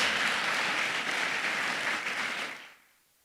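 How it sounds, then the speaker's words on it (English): A graduation crowd at the Irwin High School Class of 2026 transitional service applauds the parents, steady broad clapping from a large room that fades out over the last half second. "we give a round of applause to our parents"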